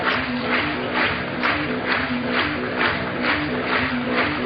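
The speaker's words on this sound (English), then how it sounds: "You can hear the applause" A large crowd applauds and cheers at the 2012 bouldering World Cup finals in Innsbruck, Austria, a steady dense wash of clapping with rhythmic swells throughout.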